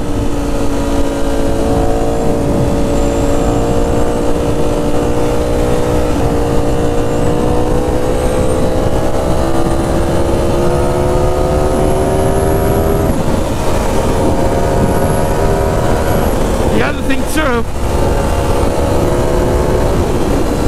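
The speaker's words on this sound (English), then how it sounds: "the rumble of the exhaust is very loud" A Ducati Streetfighter V4 S with an SC Project titanium exhaust holds a loud, steady rumble through the whole stretch, its low drone shifting pitch slightly as the engine runs, with no one speaking.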